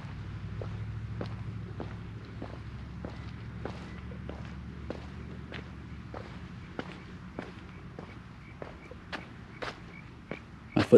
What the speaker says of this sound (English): My footsteps are very loud today.